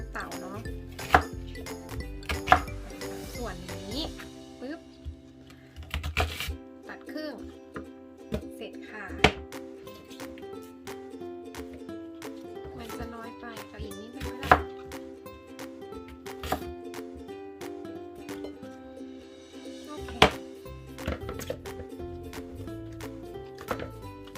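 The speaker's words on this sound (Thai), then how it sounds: "หอมใหญ่นี่ก็จะปอก็จะหั่นเปน" A knife peels and chops an onion steadily on a cutting board, irregular sharp taps with occasional clinks, under a continuous musical background and some talking.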